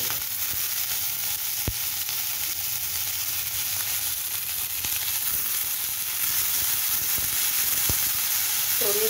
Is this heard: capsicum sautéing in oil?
yes